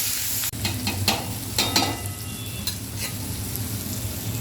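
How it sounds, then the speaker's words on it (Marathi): Coconut masala paste for shev bhaji frying in oil in a pan, with a steady sizzle and repeated scraping strokes of a spoon stirring it, close and continuous with no talk. "इथे आपलं आता सर्व वाटण चांगलं असं खरपूस भाजलं गेलेलं आहे"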